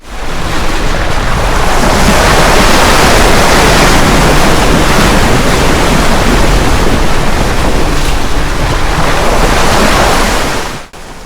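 Spaas Creek running high after heavy rains, a loud, dense and continuous rush of flowing water that stays constant, then cuts off abruptly at the end.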